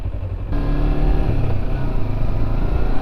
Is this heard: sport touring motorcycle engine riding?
yes